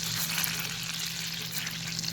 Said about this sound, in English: We are gonna give it a nice little stir.